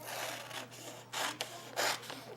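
Scissors cut a strip of paper for barrel beads in a few rough, rasping bursts with short pauses between them, close and fairly quiet, with no talking.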